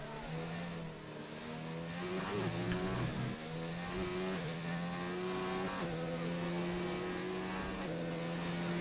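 An F1 car's engine screams through a hot lap at Suzuka in a racing video game, loud and close, with quick gear shifts and rising revs, pitch dropping and climbing through corners.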